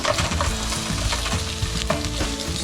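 Onion browns in a hot pan, a steady loud sizzle with rhythmic scraping and clatter of stirring throughout, no voices.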